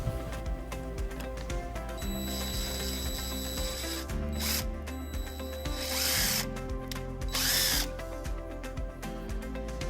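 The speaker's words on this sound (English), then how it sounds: "And then we'll drill our next hole." A power drill bores a hole into a 2017 Mitsubishi Outlander body while a wiring harness is installed, running in several loud whirring bursts with short pauses between them. No one speaks.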